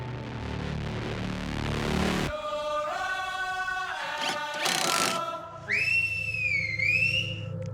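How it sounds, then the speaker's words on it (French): At a home renovation competition, a whistle is blown to signal tools down: a shrill, sustained, wavering blast rises over background noise, near and loud, then trails off briefly and sounds again. "Puis Scott a sifflé. Déposez vos outils."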